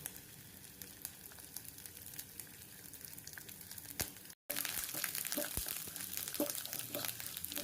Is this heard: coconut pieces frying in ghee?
yes